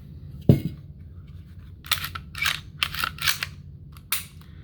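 Metallic handling clicks of an HK VP9 handgun during a magazine check: one sharp loud snap followed by a series of quicker, lighter clacks and slides, close up with no voices.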